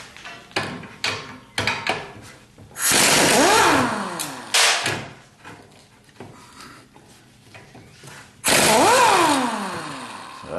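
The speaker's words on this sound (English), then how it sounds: "I'm going to break out the impact wrench and get those off quickly." An impact wrench removes bolts from the spare tire carrier of a 1976 Corvette, firing in repeated loud, close bursts of rattling hammering separated by pauses and shorter taps.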